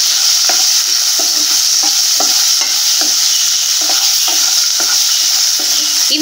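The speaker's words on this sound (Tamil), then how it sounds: "இஞ்சி பூண்டு எல்லாமே லேசா வதங்கி வரட்டும்" Ginger and garlic sauté in a pan for restaurant-style egg masala, giving a loud, constant sizzle broken by repeated rhythmic stirring scrapes, close and alone.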